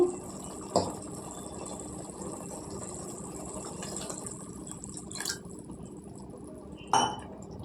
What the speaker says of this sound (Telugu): ఇప్పుడు నీళ్ళు వేసుకోవాలండి